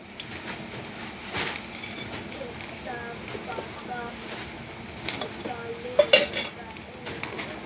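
Green and red chillies fry in a pan until crisp, a soft sizzle with stirring and utensil clinks against the pan, quiet beneath a voice talking.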